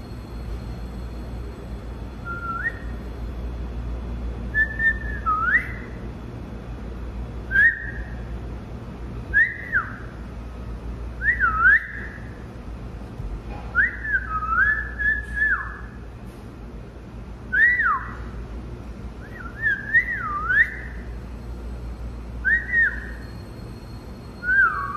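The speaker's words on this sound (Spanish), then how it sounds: "Silbar, gente." A person whistles short rising-and-falling notes in scattered phrases over about twenty-five seconds, fairly close, against a quiet low background hum.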